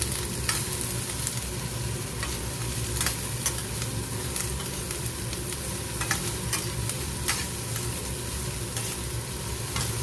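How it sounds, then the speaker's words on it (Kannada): Chopped vegetables and carrot stir-fry in a hot pan for vegetable Maggi, giving a continuous close sizzle broken by regular scraping and clattering strokes of a spatula. "ಇವೆಲ್ಲವನ್ನು ಚೆನ್ನಾಗಿ ಸ್ವಲ್ಪ 2-3 ನಿಮಿಷ ಫ್ರೈ ಮಾಡಬೇಕು."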